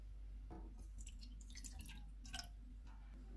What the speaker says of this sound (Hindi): पैन में पानी डालेंगे